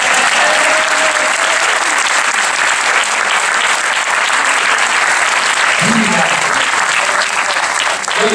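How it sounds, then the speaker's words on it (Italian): A theater audience at an Italian tribute speech by a TV host breaks into loud, sustained applause that fills the room evenly throughout, with a brief voice under it near the end. "l'applauso qua."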